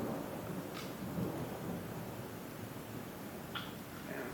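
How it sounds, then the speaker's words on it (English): Thunder during a thunderstorm rumbles low and steady through the whole stretch, a broad continuous roll with faint rain hiss, no voices present. "I didn't think it was a thunderstorm day."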